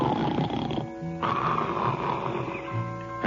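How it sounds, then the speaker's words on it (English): A man snores loudly in an old time radio comedy, with rasping, rumbling breaths that repeat close up over a faint musical backing. "And there I go snoring again before I'm asleep."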